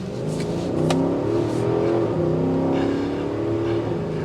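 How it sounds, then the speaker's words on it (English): A 2023 Infiniti QX80's naturally aspirated V8 pulls hard under acceleration from inside the cabin, a loud, steady engine roar that swells and climbs in pitch for several seconds with no talk over it. "This is what a naturally aspirated V8 can do."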